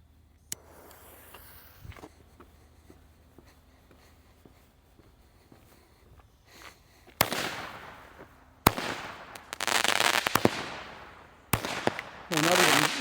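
A Supreme Fireworks Thunderstorm cake goes off after a quiet lead-in, firing a series of sharp loud cracks and crackling bursts in uneven volleys, with a bit of talking under the opening moments.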